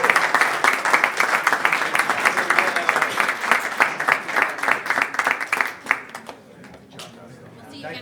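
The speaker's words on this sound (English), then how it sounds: "Let's give these champions another round of applause." Applause from a council meeting crowd honoring a group of champions: dense, steady clapping fills the room for about six seconds, then thins out and fades, with some voices in the background.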